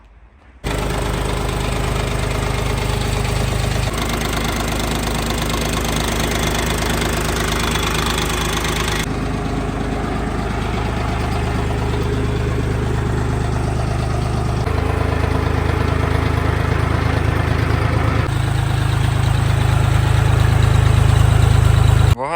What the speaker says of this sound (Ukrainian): Демонструю роботу двигуна та світлових приладів.